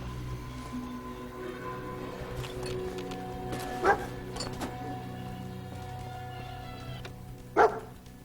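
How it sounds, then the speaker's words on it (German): A dog in the video game Fallout 4 gives two short, sharp barks several seconds apart over a low, steady game ambience. "Der wohl süßeste Hund in einem Videospiel"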